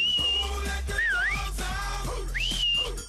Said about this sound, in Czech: Stačí jedno hvízdnutí a pes už ví,